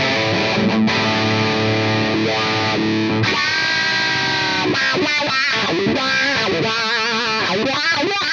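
Electric guitar with heavy distortion played through a Morley 2020 Wah Lock pedal, loud sustained chords opening into sweeping filtered notes whose tone rises and falls, alone without talk.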